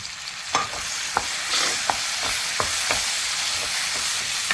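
Chopped bananas fry in a pan with a steady hissing sizzle, while a utensil stirs and clicks against the pan every half second or so, close and loud, with no talk.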